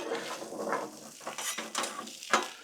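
Ravioli and meatballs sizzle in oil on a Blackstone griddle, a soft steady crackle with scattered clinks and scrapes of utensils close by.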